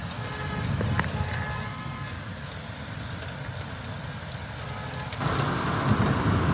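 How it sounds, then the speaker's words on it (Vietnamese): Heavy rain pours steadily in a dense, hissing roar during a thunderstorm in Hanoi, growing even louder toward the end as the downpour intensifies. "Có thể nghe được cái tiếng mưa này."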